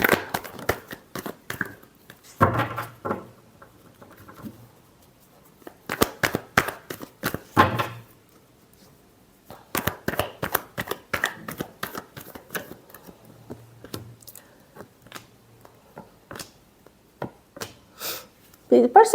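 Tarot cards being shuffled by hand, heard as close, papery riffles and rustles in short clustered bursts separated by brief pauses.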